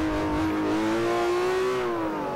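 A Ferrari 599 GTO in Forza Motosport 4 holds a loud, close engine note that climbs steadily in pitch under acceleration, then eases back slightly near the end.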